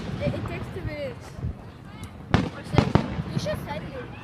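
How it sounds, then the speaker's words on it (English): Fourth of July fireworks at Fairplex in Ganesha Park burst in a few sharp, distant bangs, with a cluster of louder pops near the end, while people chat nearby throughout. "Fireworks at Fairplex."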